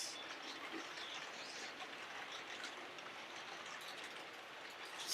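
A model train runs along its track with a steady, hissing rush of wheel and motor noise, continuous and fairly faint throughout.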